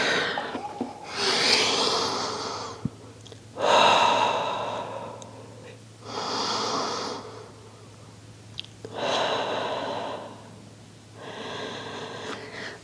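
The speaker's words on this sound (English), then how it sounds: "We're breathing in through the nose," Slow, deliberate breaths during a Pilates reformer workout, drawn in through the nose and pushed out through the mouth, come in five long, close, airy bursts separated by quiet pauses.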